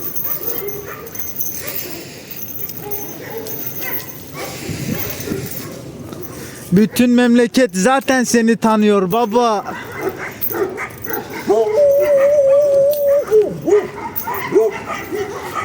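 A dog found after going missing barks, yips and whimpers in excited bursts close by, mixed in among people talking over it, with a sustained howl-like whine near the end.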